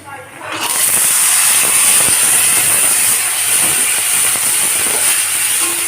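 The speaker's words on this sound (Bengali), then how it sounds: "ছোলাটাকে ভাজা ভাজা করে নেব" Soaked chickpeas hit hot mustard oil seasoned with panch phoron, and a loud hiss bursts in after a brief quiet start, then holds as a strong continuous sizzle.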